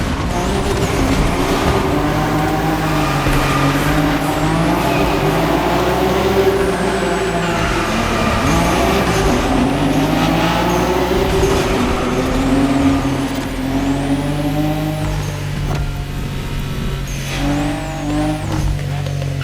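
Cars drift in the racing video game The Crew Motorfest, engines revving and wailing up and down while tyres squeal in rising and falling whines, loud and continuous throughout.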